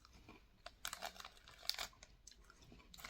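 Crunchy chewing of white chocolate puff snack bites, close to the mouth, a few irregular crisp crunches and bites over a quiet background.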